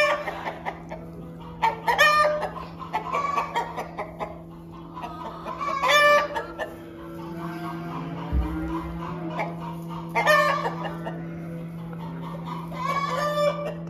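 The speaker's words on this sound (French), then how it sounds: "quand on vient soigner, donner à manger, les poules cacassent" Hens cackle and cluck loudly and close up in a farmyard at feeding time, their bursts of calls repeating through a steady background hum.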